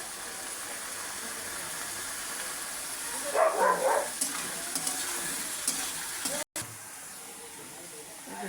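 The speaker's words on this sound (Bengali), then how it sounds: "এবার একটু ভিনিগার দিয়ে দিচ্ছি।" Vinegar being added to a hot frying pan with potato fries, bringing a steady loud sizzling hiss with a brief burst of louder crackle and stirring in the middle, close up, with a short dropout near the end.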